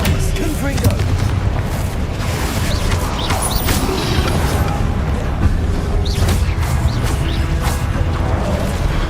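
A Confringo blasting spell going off in Hogwarts Legacy, heard as dense, booming blasts that roll continuously over a steady wash of battle noise, loud and close with no pause.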